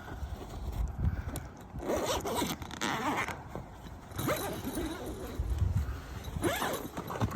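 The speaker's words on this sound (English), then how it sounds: "Unzip there, unzip this one." A swag tent's zippers are pulled open by hand, giving repeated close rasping zips and scrapes of fabric, with brief pauses between strokes and no talking.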